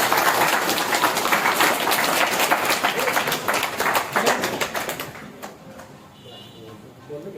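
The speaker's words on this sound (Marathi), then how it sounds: "त्यांच्यासाठी जोरदार टाळ्या वाजवा" An audience claps loudly and densely at an MLA's birthday celebration in Koregaon, and the applause fades out after about five seconds, leaving a quieter room.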